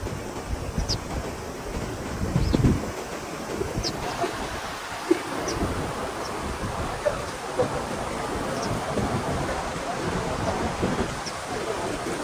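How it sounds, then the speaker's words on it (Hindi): Steady roar of rushing water near a mountain lake in Kalam, Pakistan, a continuous broadband wash with faint wind noise and a few small knocks, heard fairly softly throughout. "मान जी पानी का शोर है।"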